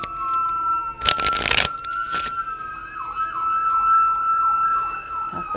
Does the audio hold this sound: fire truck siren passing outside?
yes